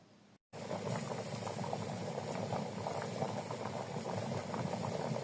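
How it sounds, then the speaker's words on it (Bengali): Fish curry gravy for a snakehead fish and yam dish comes to a rolling boil in a pot, giving a steady, close bubbling and churning that runs unbroken after a brief silent gap at the start. "ঝোলটা ভালো করে ফোটার জন্য অপেক্ষা করতে থাকলো"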